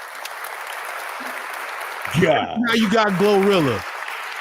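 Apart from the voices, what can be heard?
applause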